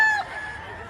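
Chickens and roosters at a Padre Garcia, Batangas poultry market give a short burst of clucking and crowing calls at the start, then fade into a steady background murmur.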